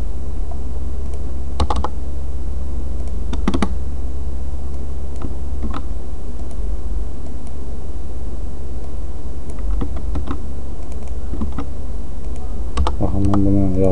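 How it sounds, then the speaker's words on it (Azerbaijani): Typing on a computer keyboard, entering a MAC address into a vendor lookup search. Short bursts of close key clicks come in scattered clusters over a steady low hum, with no talking. "Baxın, mən bunu yazdım burada, axtarış verirəm."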